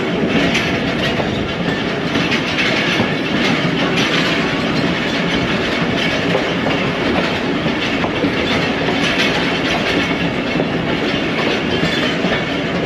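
Ravi Express passenger train between Lahore and Nankana rolling steadily on rails, a loud continuous rumble with rhythmic clickety-clack of wagon wheels throughout, no voices.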